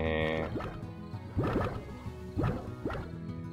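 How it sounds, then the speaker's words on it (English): Slimes in the video game Slime Rancher bouncing around: wet, squishy, gurgling splats like giant water balloons, landing in a few loose, uneven thuds at close range over a steady background tone. "They sound like a bunch of water balloons bouncing all over the place."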